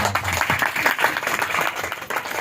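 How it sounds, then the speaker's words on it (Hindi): A church congregation applauds during a worship service, a sustained wash of many hands clapping at steady strength, filling the room with no speech over it. "जोरदार ताली एक दफा फिर खुदावंद के नाम की।"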